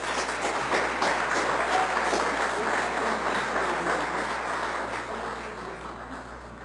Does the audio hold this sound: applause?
yes